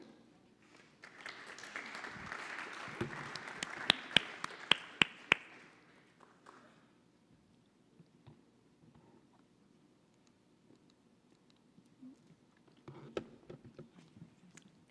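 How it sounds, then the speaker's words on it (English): A short burst of audience applause rises and fades with sharp clicks, followed by quiet room sound and a few scattered taps near the end. "So I think we can applaud them to welcome them on the stage"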